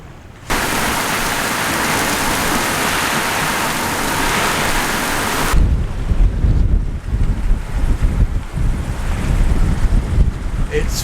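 Strong wind buffets a sailboat anchored in very shallow, flat water, a loud continuous roar of gusts hitting the microphone that turns rougher and more uneven partway through.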